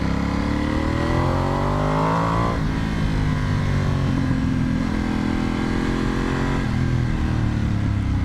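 A Vyrus motorcycle's engine idles and runs slowly, a steady loud close rumble with small rises and dips in pitch as it is shifted into neutral during a ride.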